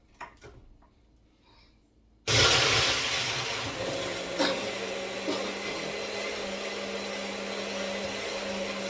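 A bullet blender switches on abruptly and grinds watermelon and cantaloupe into a smoothie, a loud, steady motor whir with rattling, after a few quiet handling clicks.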